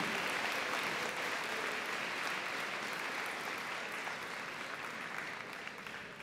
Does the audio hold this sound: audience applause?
yes